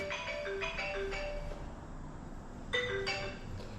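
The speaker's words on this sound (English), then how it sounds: "My work phone's ringing." A work phone rings with a short electronic melody that plays twice, separated by a pause, fairly faint over low background rumble in a workshop while an engine's oil pressure is being checked.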